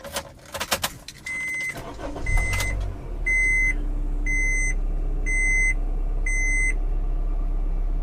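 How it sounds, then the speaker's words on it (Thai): A 2015 Honda Mobilio 1.5 V starts up after keys jangle and dashboard chimes beep, then its engine settles into a steady low idle while a warning chime repeats four times overhead. "เดี๋ยวมาฟังเสียงเครื่องยนต์กันนะคะ"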